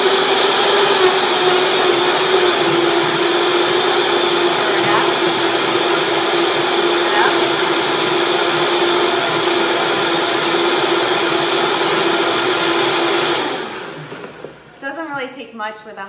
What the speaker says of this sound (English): Take much with a high-speed blender like the Vitamix.